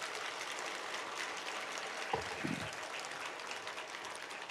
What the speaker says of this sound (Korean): 박수 좀 한번 쳐드리세요.